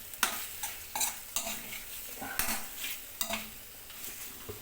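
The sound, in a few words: Katla fish frying in a pan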